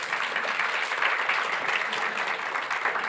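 Steady, even audience applause at a live church service in St. Augustine, a continuous wash of many hands clapping at moderate level throughout, with no voices.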